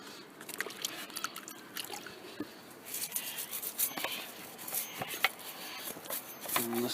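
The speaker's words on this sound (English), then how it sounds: "I'm going to scrub all around where the bolts are" A brush scrubs and degreases around the bolts on a Holden Commodore engine during a water pump job, giving quick, irregular, close scratchy strokes with wet squishing and no talking.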